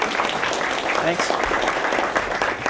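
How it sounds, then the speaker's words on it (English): Audience applause for a presenter introduced as a company CEO at a tech conference talk: steady dense clapping throughout, with someone briefly speaking over it. "So let's give him a round of applause."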